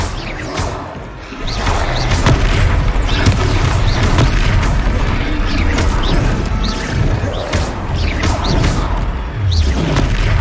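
Spell combat in the Hogwarts Legacy video game, with loud booming impacts, crashes and whooshes layered densely over a continuous roar of battle effects.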